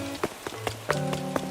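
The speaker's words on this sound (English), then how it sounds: "Well, it's raining." Rain in Animal Crossing: New Horizons, light patter with distinct soft drop taps spaced in a loose rhythm over a tonal game background, fairly quiet.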